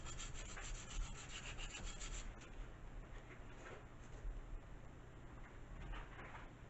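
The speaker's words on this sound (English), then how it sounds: "And we'll sand in here." Sandpaper rubs back and forth on a part of a Carbonette Mod4 model airplane, a soft, steady, close scratching with quicker strokes at the start and no voices.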